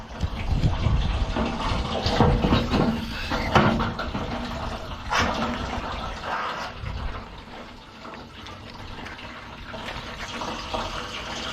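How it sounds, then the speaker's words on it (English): A garden hose pours water into the rusty fuel tank of a Mazda RX-7 FB, making a steady rushing splash with occasional hollow clunks against the metal. The sound is moderately loud and continuous, with no voices. "got the hose in it, fill it up with water. We'll let it flush out"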